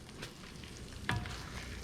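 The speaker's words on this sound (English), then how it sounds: "So I'm gonna fry this for a good 15-20 minutes and make sure that it's fully cooked" Tomato paste frying in a pan for an Italian tomato sauce, a steady low sizzle running throughout, with a brief sharper crackle or stir near the middle.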